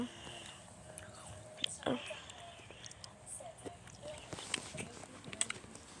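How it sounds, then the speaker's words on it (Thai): Close-up chewing of food by a man reviewing the 2014 Godzilla film, soft irregular mouth and crunch sounds over several seconds with a few sharper bites and light background noise. "เห็นว่าผมเคี้ยวอะไรอยู่ใช่ไหม"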